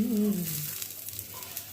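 Taro root dosa frying in a pan, a soft steady sizzle that is loudest at the start and then settles into a faint continuous crackle, with no talking.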